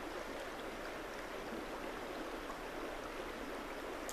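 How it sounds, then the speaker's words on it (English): Steady broadband rush of flowing river water on a river near Sedona, Arizona, continuous and even throughout, fairly quiet, with no voices. "As you hear the sound of the water"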